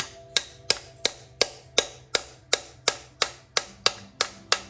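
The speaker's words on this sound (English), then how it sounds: "we're gonna still give the end of the connecting rod a little tap with a mallet" Mallet tapping the end of a connecting rod to seat the guide pin while a piston goes into a turbo B18B engine, about thirteen sharp, evenly spaced taps, close and clear with no talk.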